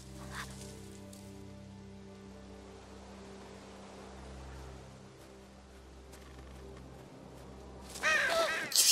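Crows caw in a Walking Dead Season 2 video game scene, a few scattered calls over a low ambient hum, with a louder burst near the end.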